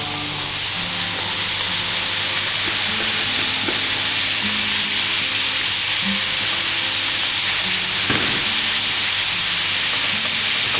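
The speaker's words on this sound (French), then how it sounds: "Donc là je balance mes lardons." Bacon lardons frying in a pan for tartiflette, a loud close sizzle that holds steady throughout, with faint stirring clatter and a brief scrape near the middle.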